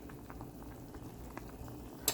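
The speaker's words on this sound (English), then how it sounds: "So this is the smoke herring here boiling." Smoked herring boiling in a pot, a close, continuous bubbling and gentle simmering with a soft metallic tap near the end.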